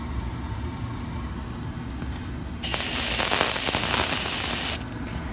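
Compressed air blasts steadily through a clogged PVC air conditioning drain pipe, a loud continuous hiss lasting about two seconds that starts and stops abruptly after quiet room tone.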